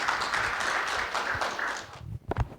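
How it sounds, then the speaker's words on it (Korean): An audience at a university startup-support results presentation applauds to welcome the presenter, a steady wash of clapping that fades out, followed by a few close taps and handling bumps. "큰 박수로 환영해 주시기 바랍니다."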